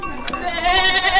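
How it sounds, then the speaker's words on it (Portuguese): A goat at a Bodo de leite festival in São Bartolomeu on Terceira island lets out one close, wavering, drawn-out bleat. "É cabra."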